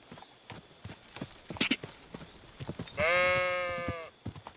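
Horse hooves clip-clopping on a road in Kingdom Come Deliverance 2, a steady run of light hoof knocks throughout, with a brief bleat or whinny-like call rising over them near the end.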